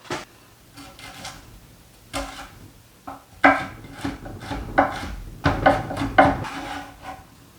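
A spoon scrapes the seeds out of a jalapeno on a cutting board, producing a series of irregular scraping strokes and sharp knocks, close and fairly loud, without talk.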